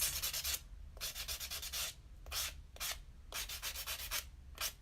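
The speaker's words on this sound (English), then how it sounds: "you just gotta be careful not to go all the way up on that cuticle because the buffer is abrasive" A nail buffer rubs across a fingernail close to the cuticle during a dip powder manicure, giving repeated short bursts of dry scratchy abrasion in an uneven back-and-forth rhythm, close and fairly quiet with no talking.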